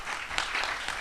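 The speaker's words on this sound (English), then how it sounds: "May I have a round of applause for all those" An audience claps at an outdoor recycling competition awards ceremony, a short burst of dense, scattered applause at moderate level with no speech over it.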